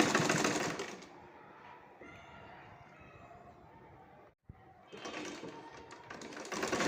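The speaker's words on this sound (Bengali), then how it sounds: "ভিতরে ঢুকিয়ে দিয়ে মাথাটা মেরে দিয়ে মাথায় ভালোভাবে টাক দিয়ে সেলাই করে নেব।" Sewing machine stitching a ribbon-trimmed sleeve, with a steady motor whir and rapid needle chatter, loud at the start and again near the end after a quieter, softer stretch and a brief pause.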